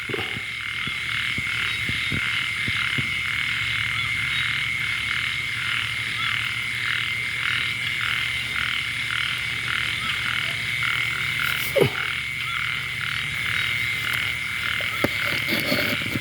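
Frogs croaking steadily at night during a Thai frog-hooking outing, a dense rhythmic chorus of close and distant calls with a constant high insect-like trill, no talking.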